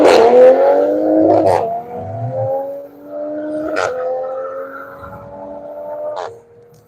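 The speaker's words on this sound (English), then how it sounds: "Brownie is down and away in the Toyota PE Motorsports Supra" A Toyota PE Motorsports Supra race car pulls away at Michelin Raceway Road Atlanta, engine rising through several loud upshifts with sharp gear-change breaks as it recedes into the distance.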